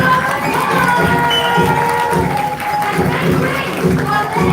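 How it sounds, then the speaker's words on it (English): Audience at a school students' drama production of Alice in Wonderland claps and cheers in a loud, continuous wash of crowd noise, with children's shouts mixed throughout. "Give a big, big round of applause."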